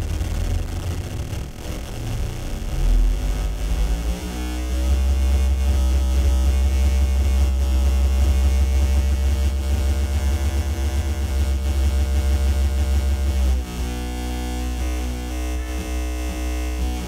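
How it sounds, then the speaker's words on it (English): A synthesizer at an IO instruments workshop has its modulation pushed up into audio rate, giving a dense, buzzing, humming drone with a deep low rumble and gritty, shifting overtones that swell, hold and change character. "When I go in the modulation way into audio rate."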